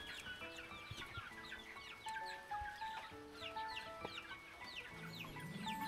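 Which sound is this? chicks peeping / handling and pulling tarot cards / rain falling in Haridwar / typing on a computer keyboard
chicks peeping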